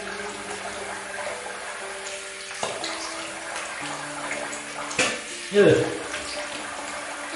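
Tap water running steadily into a sink while a face is rinsed after a shave, with splashes and a brief spoken word near the end.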